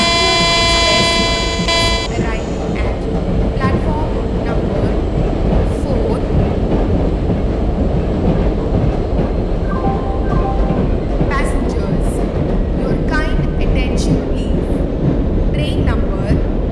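A passenger train runs in the Indian Train Simulator game on the Mumbai Central to Chennai Central route, a loud continuous rumble of rolling wagons opening with a sustained horn blast, with a voice speaking over it.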